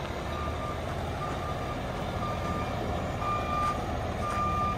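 A truck backing slowly down a residential driveway, its reversing alarm beeping in a steady repeated pattern over a continuous low engine rumble, close and fairly loud with no talking.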